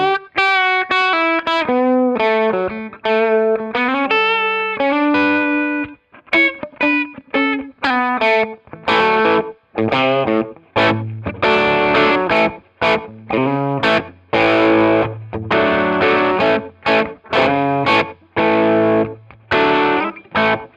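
An electric guitar, a Frank Brothers Arcade with PAF-style humbuckers, plays through a Two-Rock Traditional Clean amp, first with melodic lines and then with strummed chords in choppy rhythmic bursts, loud and alone with a slightly driven edge.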